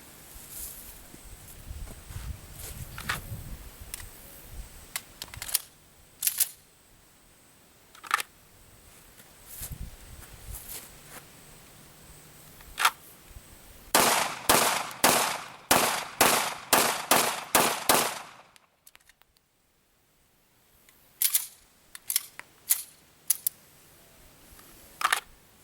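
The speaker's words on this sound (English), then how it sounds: "I'm going to put 1 shot in each of the big bad guy targets, and I'm going to come back and finish them off with 2 more." CZ 75 pistol fired at silhouette targets outdoors: scattered single shots early, then a rapid string of about a dozen loud sharp reports, a brief silence, and a few more spaced shots near the end.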